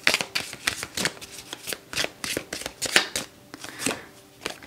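Tarot cards shuffled for a pick-a-card reading, a close run of crisp papery snaps and riffles in an uneven rhythm, loud and clear with no talk over it.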